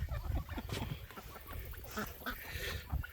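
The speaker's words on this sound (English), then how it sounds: "The ducks and geese are all swimming around." Ducks and geese swimming on a pond let out a busy jumble of close quacks and honks, overlapping in quick irregular bursts.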